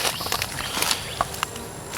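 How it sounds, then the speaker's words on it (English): Honey bees buzz around a hive in a tree, a steady close insect drone with brief louder passes near the listener, no speech. "And they're buzzing around my head."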